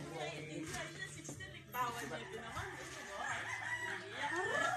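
A rooster crows amid a busy outdoor rural scene, the call rising over a steady low hum, with people talking nearby.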